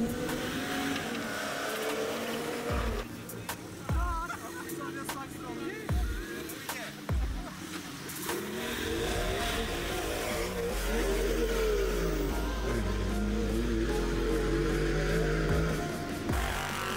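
Rally cars racing around a charity off-road event track, overtaking in corners and straights: engines rev and drone past at middle distance with repeated thumps, a sustained engine note building in the second half, faint voices in the background.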